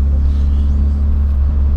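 A Honda racing car's engine runs steadily at idle, a loud, constant low rumble that holds without change throughout, with no voices present.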